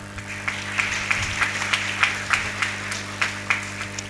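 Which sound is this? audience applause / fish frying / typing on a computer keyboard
audience applause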